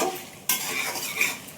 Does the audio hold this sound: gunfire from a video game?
no